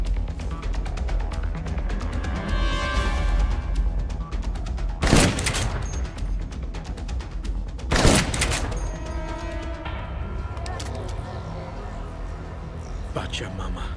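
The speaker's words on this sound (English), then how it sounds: "Someone's shooting from the floor above." Muffled bursts of gunfire ring out from the floor above in Dead Rising Deluxe Remaster, with two sharp loud shots standing out over a busy game soundscape and talk.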